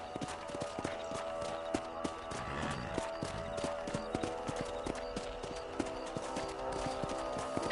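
Horse hooves galloping in the game Red Dead Redemption, a quick, steady clip-clop rhythm that runs throughout at moderate loudness with a faint background score.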